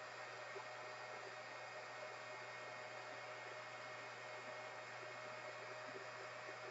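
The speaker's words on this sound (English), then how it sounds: "So let's turn on the heat gun, and we'll hold it in front of it." Steady close blowing hiss of a heat gun aimed at modeling film for making flowers, a constant broadband rush with a low hum underneath, running unbroken and alone.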